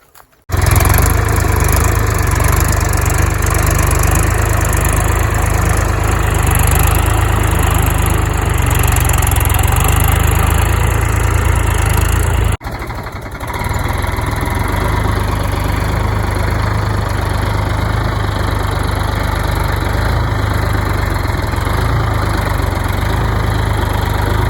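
A 42-horsepower tractor ploughs a field with a five-tine cultivator, its engine droning loudly and continuously up close, with a brief dip in the middle before the heavy drone resumes.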